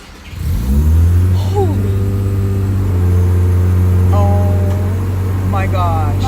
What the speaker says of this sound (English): We're about to have our first cold start with the FC.